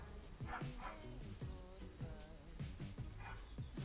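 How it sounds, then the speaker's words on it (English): A dog barks in a garden, a string of rough, fairly faint barks in rapid irregular bursts, with some whimpering tones and a buzzing fly in the background. "Got an interrupting dog, haven't we?"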